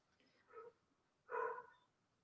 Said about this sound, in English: Somebody is outside and the dog is not happy.